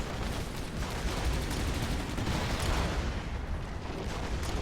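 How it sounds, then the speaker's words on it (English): A command bunker is hit and destroyed in the Rise of the Reds real-time strategy game, heard as a dense, continuous roar of gunfire and explosions with no break. "Command bunker is destroyed."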